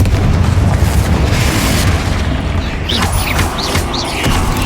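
Bombarda and Confringo spells going off in the Hogwarts Legacy video game, a loud continuous roar of blasts and rumbling debris that eases a little midway, with brief high magical chimes layered on top.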